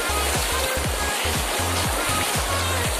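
River water rushing continuously while crossing the cold middle of a river at Los Canelos, Pedro Vicente Maldonado, Ecuador, a loud steady broadband wash with low splashing pulses from wading, no talk.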